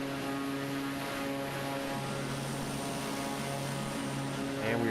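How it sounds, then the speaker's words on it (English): Pilatus PC-6 single-engine propeller plane in Microsoft Flight Simulator, flying over Sydney, Australia: a steady, loud engine drone with a constant tonal hum and propeller buzz throughout. "I am flying the Pilatus"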